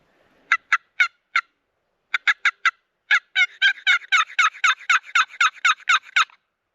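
Wild turkeys in south Texas gobbling at a distance, a few isolated rapid bursts followed by a long run of regular repeated gobble notes, clear against a quiet background.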